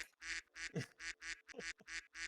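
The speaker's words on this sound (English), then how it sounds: "there's a quack" A duck quack sound effect played from a Discord soundboard, a rapid run of about eight short nasal quacks in a row, close and clear, with no talk over it.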